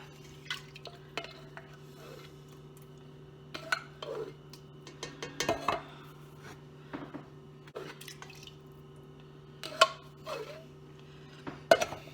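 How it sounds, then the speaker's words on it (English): A spoon stirs bouillon into a pot of Maryland crab soup, giving scattered soft clinks and scrapes against the pot with quiet liquid sloshing and pauses between strokes. "we're going to stir that up really good so that bouillon melts"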